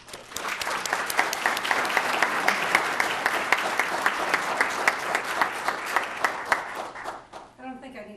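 An audience at a high school presentation applauds to welcome the mayor, a dense, steady wave of many hands clapping for about seven seconds before it thins out and a voice starts speaking near the end.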